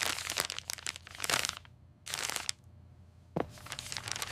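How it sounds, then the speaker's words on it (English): Paper being crumpled close up in short crinkling bursts, loud rustles separated by brief pauses and a final crunching squeeze, with no talking. "Jack, don't crumple that."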